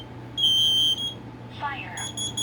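Household smoke alarms sound in short piercing beeping bursts, a steady tone around half a second followed by a second alarm starting near the end, with faint background noise.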